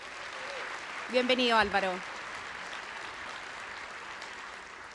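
A conference audience applauds to welcome journalist Álvaro Vargas Llosa onto a panel, a steady wash of clapping that runs the whole length while a voice briefly greets him over it near the middle.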